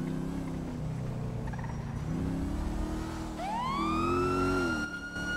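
A police car siren in a GTA roleplay game wails up in pitch and holds, loud over a steady engine drone, after a few seconds of low driving noise.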